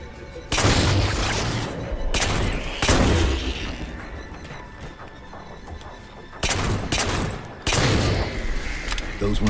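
Magnum pistol fire in the Halo 4 video game sounds as loud, sharp bursts spaced a few seconds apart over a busy background of game sounds, with a person talking in between.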